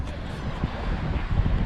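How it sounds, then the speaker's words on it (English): Wind in Wales roars steadily across the microphone beside a Sprinter van awning room, a dense low rumble with brief gusty bumps and no pause. "It's windy"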